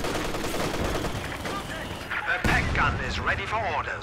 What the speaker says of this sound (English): Mortar not really hitting too much so far, targeting not the best